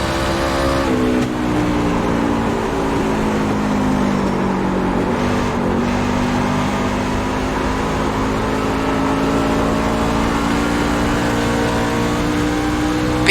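A pickup truck engine in the iRacing Pickup Cup at Phoenix holds a loud, steady high-revving drone, with a brief dip in pitch near the start and then a continuous roar.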